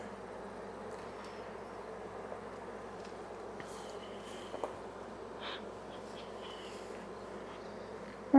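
Honeybees in an opened hive during a late-season inspection give off a steady, soft, continuous buzzing drone, faint and even throughout, with a few small clicks and no talking.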